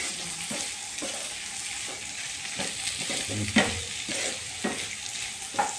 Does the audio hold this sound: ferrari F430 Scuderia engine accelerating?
no